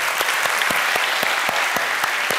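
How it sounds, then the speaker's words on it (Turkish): Studio audience on a Turkish comedy sketch show clapping for performer Metin Keçeci, a dense, steady wash of applause with sharp, regular claps standing out, loud and close, with no talking. "Metin Keçeci, alkışlıyoruz."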